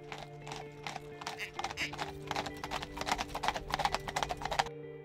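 Horses' hooves clip-clop in a quick, uneven rhythm on a hard surface at a harness driving stable, fairly close but soft, over a steady low hum, with a brief whinny-like note.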